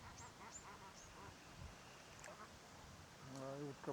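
Near a reed-fringed channel and bay, a duck gives faint, distant quacks over a quiet outdoor background, then one clearer, nasal, drawn-out call just before the end.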